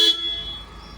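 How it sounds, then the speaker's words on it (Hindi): A car horn sounds at the start of a short burst inside a family car, a brief loud toot that quickly fades into quiet cabin hum. "प्रेस करना हॉर्न। हॉर्न देख बेटा,"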